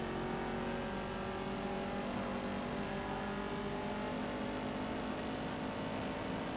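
Race car engine in the racing game ToCA Race Driver 3, a continuous loud drone holding steady revs with slight pitch shifts, no talk over it.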